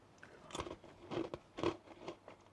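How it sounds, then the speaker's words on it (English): A crunchy pretzel snack is bitten and chewed up close in a few crisp, irregular crunches, with no talking over it. "The pretzel's nice, it's crunchy."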